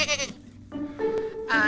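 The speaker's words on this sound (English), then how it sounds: "a big old billy goat came out" A big billy goat bleats close by in a home, several wavering, nasal calls in quick succession with short gaps between them.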